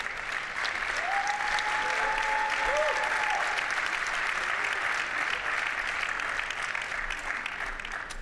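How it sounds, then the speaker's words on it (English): A crowd at a startup awards event in Barcelona applauds a speaker, steady broad clapping throughout with a brief whistle-like tone rising over it early on. "Big round of applause."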